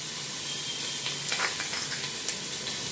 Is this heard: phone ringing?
no